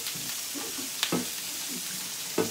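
Steak sizzling and browning in a hot pan for chile verde, a soft continuous frying hiss with a few brief louder crackles and spatters, close and without talk.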